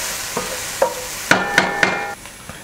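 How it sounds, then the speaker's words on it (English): Shallots sauté in a pan as a utensil strikes and scrapes the metal several times, sharp clinks ringing over a faint background sizzle, heard up close without voices. "we're gonna drop our shallots in and just saute them for about 5 minutes"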